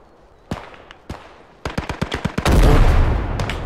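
Rapid machine gun bursts in the WWII strategy game Gates of Hell: Ostfront, a few scattered shots leading into a tight volley of sharp cracks, then a sustained roar of heavy fire and explosion rumble.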